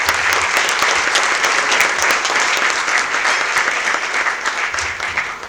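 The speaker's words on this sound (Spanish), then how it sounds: "que le demos un aplauso a nuestro panel de expertos" An audience applauds a panel of experts at the close of a Corficolombiana economic forum, with dense, steady clapping throughout that stays loud and continuous without any speech.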